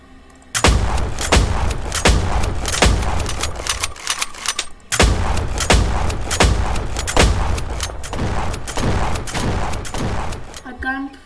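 Gunfire in the Roblox game Jailbreak comes in two long stretches of rapid, loud, evenly spaced shots, broken by a short pause, with a player speaking during the shooting.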